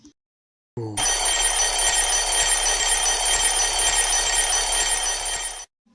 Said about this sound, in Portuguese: O despertador tem um som longo.